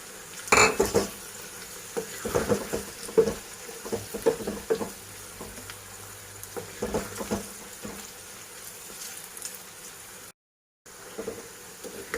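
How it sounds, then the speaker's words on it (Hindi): Okra and potatoes fry together in a pan for a traditional Sindhi bhindi aloo dish, with repeated clinks and scrapes of a spoon over a soft, low sizzle and a brief silent gap near the end. "अब मैं इसमें आलू डालूंगी और ये भी इसके साथ ही फ्राई हो जाए।"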